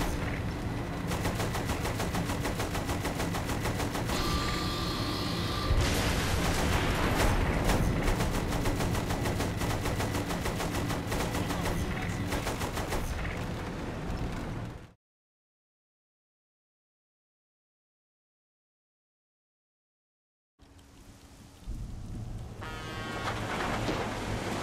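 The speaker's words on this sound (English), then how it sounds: "use the machine gun then, not the cannon" Sustained rapid machine gun fire in the video game Saints Row The Third, loud and continuous bursts with game sounds for about fifteen seconds, then total silence before the game audio returns.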